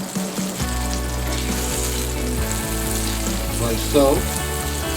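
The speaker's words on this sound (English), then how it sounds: "So he put some butter in it." Butter sizzles in a hot pan on a home stovetop for linguine, a loud steady frying hiss with a low hum underneath, and someone speaks briefly over it.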